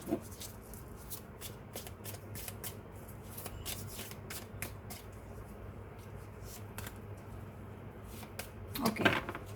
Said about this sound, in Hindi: यहाँ से मैं कुछ कार्ड्स निकाल लेती हूँ आप लोगों के लिए।